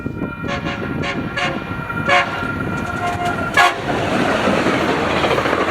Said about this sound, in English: there's a northbound frontrunner with the crew giving me a horn show